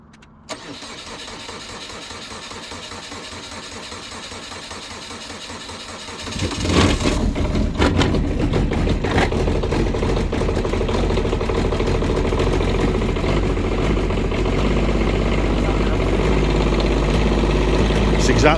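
A Kubota engine cranks and catches after about six seconds, then settles into a loud, steady idle with uneven revs that lasts to the end.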